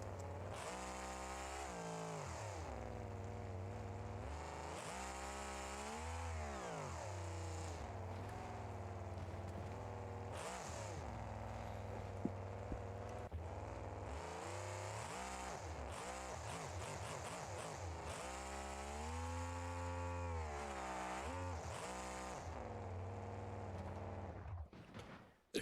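A Pro Mod drag racing engine in a BeamNG.Drive monster truck screams continuously, its loud buzzing drone surging and dropping repeatedly through many rev swings before cutting off at the end.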